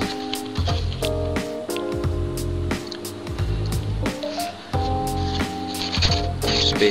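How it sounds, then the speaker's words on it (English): Water is poured onto plaster cloth for a model train layout and smoothed by hand, giving wet squishing and dabbing sounds with sharp taps throughout. "So what I do is I'll pour some water on there and smooth it like that."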